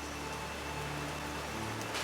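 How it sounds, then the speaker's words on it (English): Rain falling in the Call of the Sea video game, a steady soft wash of drops with no breaks, faint and even throughout with no voices. "These drops of rain are so refreshing."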